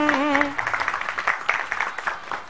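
An audience applauds for a singer at a stage performance, with a brief sung or spoken tone at the start, then a steady spatter of moderately loud clapping for about two seconds.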